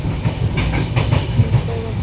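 A train travelling at night heard from inside a coach, with a steady low rumble and rhythmic wheel clatter on the rails, loud and continuous, with faint voices underneath.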